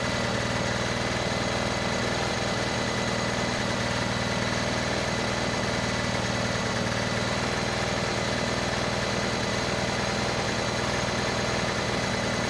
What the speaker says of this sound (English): Engine running, but no electricity.